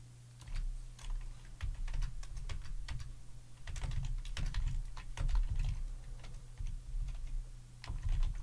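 Rapid, quiet keystrokes clatter on a computer keyboard in short irregular runs over a low steady hum, with no talking.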